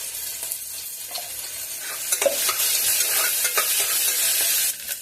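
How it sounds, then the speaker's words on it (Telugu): Sliced onions frying in a pan with ginger garlic paste and turmeric for a broad beans curry, a steady close sizzle broken by a few sharp scraping stirs, with no voices. "ఉల్లిపాయ ముక్కలు కాస్త ఫ్రై అయ్యాక అల్లం వెల్లుల్లి పేస్ట్ యాడ్ చేసుకొని కొద్దిగా పసుపు కూడా యాడ్ చేసేస్తాం."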